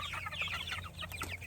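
Farm chickens cluck in quick, busy overlapping calls, close and fairly quiet, during summer morning chores over a faint low background hum.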